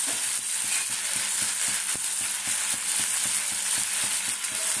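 Chillies fry in a pan with a dense, steady hiss of hot oil, broken by regular soft tapping and stirring sounds, close and constant without any voices.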